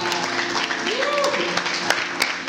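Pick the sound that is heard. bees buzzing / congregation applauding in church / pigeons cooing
congregation applauding in church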